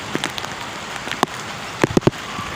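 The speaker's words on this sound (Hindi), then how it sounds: "फिर से बहुत ज़्यादा बारिश तेज़ हो चुकी है" Heavy rain falls steadily in Karachi, a constant wash of drops striking surfaces, with a few sharper nearby splats and knocks standing out over the hiss.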